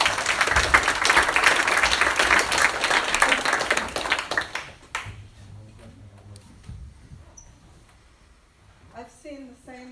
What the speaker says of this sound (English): Let's give Gigi another round of applause.